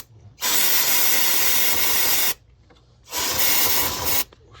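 Brake cleaner sprays onto an oily oxygen sensor on a 2006–2011 Chevy HHR in two long, loud hissing bursts of about two seconds each, separated by a short pause, close to the nozzle.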